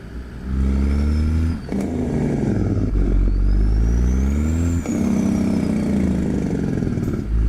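Engine of a cattle truck hauling a Nebraska quad-train, a loud, steady, rattly drone with low harmonics that rise and fall slightly as it runs, continuous and close throughout.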